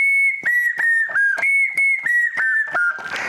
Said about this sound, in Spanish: que es una cruza entre pues una melódica y un acordeón y suena así